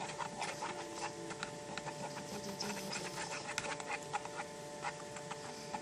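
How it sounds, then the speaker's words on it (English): Quiche mixture of eggs and parsley is stirred briskly in a hand-held bowl, making a steady, quiet, close patter of scraping and light tapping with no voices. "my assistant is going to stir while I hold the bowl"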